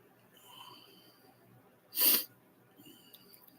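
A single sharp, loud sneeze bursts out amid a quiet room, brief and close, with faint background murmur before and after.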